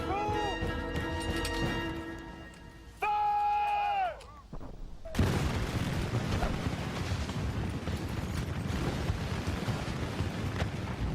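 A musket volley fired by French line infantry against the British line in James Wolfe's battle. Sustained melodic tones give way to a dense, loud crackle of gunfire and rumbling smoke-filled noise lasting several seconds.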